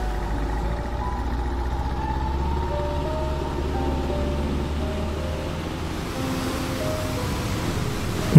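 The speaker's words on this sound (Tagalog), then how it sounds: "Tunog ng mga bangkang papalaot at hampas ng alon sa tabing dagat." Steady wash of waves breaking on a seashore, a continuous broadband roar with low rumble underneath, constant and moderately loud with no voices.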